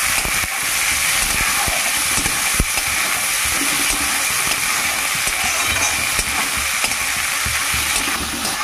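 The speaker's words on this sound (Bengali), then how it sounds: "এবার আমি ছোলাগুলো দিয়ে দেবো। ছোলাগুলোকে একটু নেড়ে নেবো তেলে।" Chickpeas fry in hot oil while being stirred, a loud continuous hiss and sizzle up close with occasional scraping clicks of the spoon against the pan.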